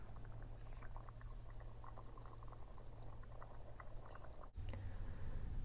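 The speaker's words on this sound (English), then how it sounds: "Depending on how thick you want the sauce, you could add some water." Water poured into a simmering pot of chicken and pumpkin curry, a steady liquid pour over bubbling boil, close and continuous with a brief break near the end.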